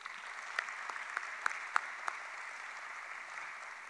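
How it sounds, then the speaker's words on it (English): Audience applause at the dedication ceremony of an indoor tennis center, a steady moderate patter of many hands with a few sharper individual claps standing out, heard from a middling distance with no talk. "A round of applause for Tiago and his teammates"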